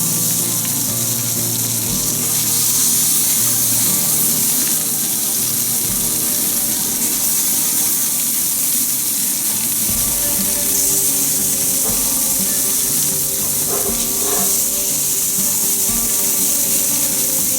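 Kofta sizzling on a griddle over medium heat, a steady loud hiss and crackle like running water that continues without pause, with no voices.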